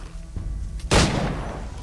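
A single sharp gunshot rings out loud and close, with a brief quieter crack before it and a decaying tail after, from soldiers firing at mercenaries in the video game Assassin's Creed III.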